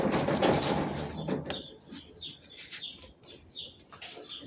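Several birds chirp close by in short, scattered bursts, with a brief flurry of wing flapping near the start and quieter gaps between calls.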